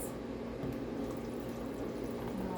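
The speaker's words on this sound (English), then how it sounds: "And then we got to put our water in there" Water pours steadily into a large cup for coffee, a continuous close liquid gush and gurgle at an even level without pause.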